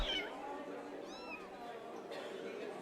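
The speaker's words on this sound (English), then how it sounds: "The cat is freaking the F out." A few short cat meows from the video game Pathfinder: Wrath of the Righteous, thin and high-pitched, rising and falling over quiet ambient game sound with a low background hum.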